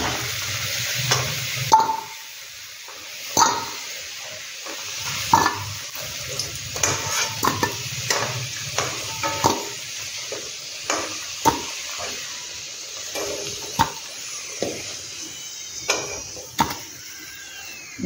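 Potato pieces fried until reddish in hot oil hiss steadily under repeated stirring knocks and scrapes of a spatula, close by, for a long stretch.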